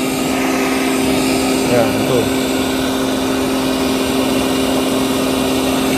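A continuous loud mechanical hum and rushing air come from a roots blower on an aeration pipe for a biofloc pond, with air venting through a control valve; a voice speaks briefly over the steady drone.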